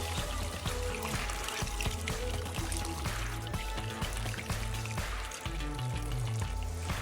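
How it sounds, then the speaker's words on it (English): Warm water pours steadily into a pot of meat with a continuous splashing, gurgling rush, close and fairly loud, lasting throughout. "Onto that, I'm going to be adding my warm water."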